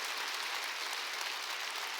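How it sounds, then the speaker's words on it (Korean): Steady applause from a church congregation at a Wednesday worship service, a continuous even wash of clapping with no talk over it. "박수 치려면 치고 말려면 말고."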